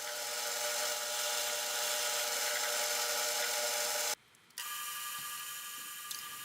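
Brass plumb bob being drilled through the centre on a restored Atlas lathe: a steady, close mechanical whine with tonal hum, cutting out abruptly for a brief gap before resuming slightly quieter.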